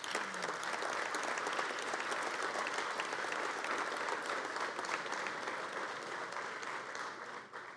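A legislative audience at a State of the State address applauds steadily, dense clapping from a large room that holds for several seconds before tapering off at the end.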